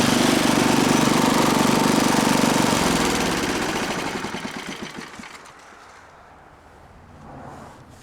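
A 1978 Craftsman 7hp, 24-inch dual-stage snowblower engine runs loud and close with a rough, chugging mechanical rattle, then winds down and fades into a quieter idle near the end.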